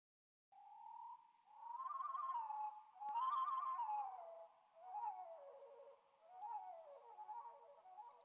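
A veery's song slowed down to a fraction of its normal speed becomes a series of lower, drawn-out wavering tones, like howling swoops, with a couple of faint clicks, alone against silence.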